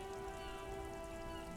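Rain falls steadily in the video game Disco Elysium during a traffic-jam scene, a soft, constant hiss laid over a sustained ambient hum, quiet and unbroken throughout.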